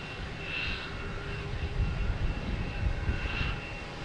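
A Delta airliner arriving from LAX and landing at Boston Logan, a steady, fairly loud engine roar and rumble that swells slightly in the middle and holds without letup, with no one talking.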